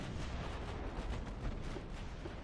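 Naval gunfire from 11-inch guns on heavy cruisers in Ultimate Admiral: Dreadnoughts, a dense, continuous rumble of distant booming salvos with no clear pauses.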